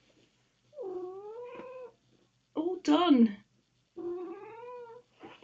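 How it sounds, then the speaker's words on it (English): A pet cat meows close by in drawn-out, wavering cries, two long calls separated by a harsher yowl. A person briefly speaks in between. "that's my cat meowing"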